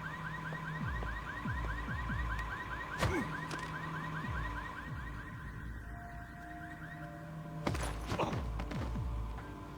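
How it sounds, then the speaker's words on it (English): Car alarm wailing in Splinter Cell Conviction, a repeating rising whoop cycling steadily and loudly, with a couple of sharp thumps or impacts cutting through. "Let's trigger the car alarm."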